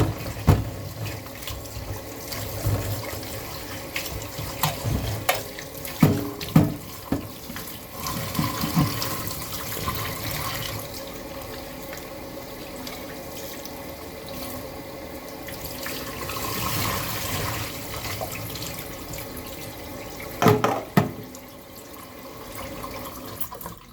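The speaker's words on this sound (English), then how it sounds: "here's my meat where I took off all the skin, so I'll give it a little rinse" Skinned turkey meat is rinsed under a running kitchen tap for curry, with a steady close water stream splashing into a sink and occasional louder splashes and knocks as the meat is handled; no talking.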